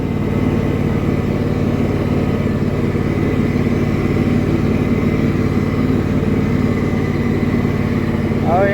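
A John Deere riding mower, left sitting for two years, runs steadily as it drives forward, its engine a constant loud drone with no break throughout.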